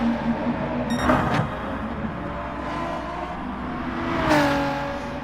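NASCAR race cars in Gran Turismo Sport at Mount Panorama, engine whine with two quick swells as cars roar past, over a continuous droning background of distant motors.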